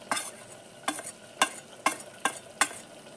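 Spices stirred into mutton frying in a pan: six evenly spaced scraping strokes, each with a brief sizzle, close and fairly quiet.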